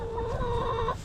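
Chickens cluck in a short, close burst with a steady drawn-out call, loud and alone, in a backyard flock during frozen Tennessee weather.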